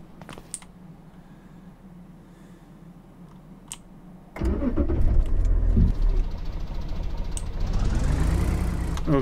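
A truck starts up during a storm chase: a few faint clicks and handling sounds, then the engine catches and roars into a loud, steady rumble that rises as it pulls away.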